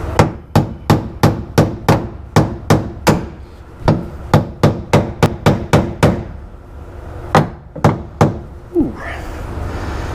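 Rapid series of sharp metallic body-hammer whacks on a 1957 Cadillac during headliner installation, about twenty blows in quick bursts with brief pauses, loud and close.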